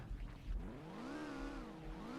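Car drifting in the video game Car Simulator 2, a steady engine drone whose pitch rises and falls in smooth sweeps as the car slides, with no talk.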